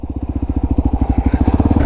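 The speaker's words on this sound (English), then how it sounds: "Something wrong with the bike? Yeah. Like what? I don't know. It just quit. It's probably out of gas." A motorcycle engine runs close and loud, firing in rapid, even pulses throughout the short stretch with no voices over it.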